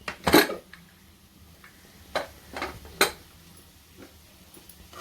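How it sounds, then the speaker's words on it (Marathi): A pressure cooker holding cooked dal and spinach is opened after whistling, with one sharp metallic clank followed by a few lighter clicks and knocks of the lid, close and otherwise quiet. "आता आपला कुकर शिट्या घेऊन झालेला आहे आपण ओपन करूया"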